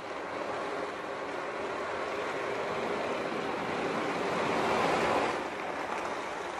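A homemade ocean drum built from a cardboard pizza box is tilted in slow circular motion, making a continuous rushing hiss like surf that swells and fades, steady and close with no talk.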